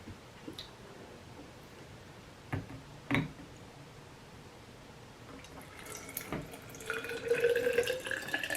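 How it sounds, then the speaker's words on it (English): Water being poured into a glass, starting as a few faint drips and clinks and building into a soft, steady trickle near the end, quiet and close with no talking. "let me pour this water"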